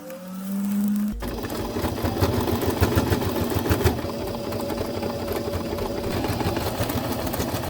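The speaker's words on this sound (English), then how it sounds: "I sew the cord in a circle. Machine stitch, zigzag." Sewing machine running zigzag stitches around a cord laid in a circle, a steady continuous mechanical whir that starts after a brief quiet moment and continues without talk.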